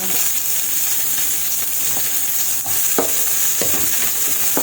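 Garlic and ginger sizzle steadily in a frying pan, a loud, close, continuous crackle with occasional stirring clicks on top.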